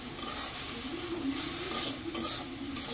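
Turmeric, chopped green chili and garlic sizzling in a pan for corn soup, a steady close frying hiss with faint stirring scrapes throughout, no voices.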